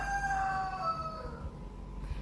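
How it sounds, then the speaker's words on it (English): A rooster crows once outdoors close to a nature setting, a drawn-out, loud call that trails off over about a second and a half and gives way to quieter background sound. "The rooster's kind of loud."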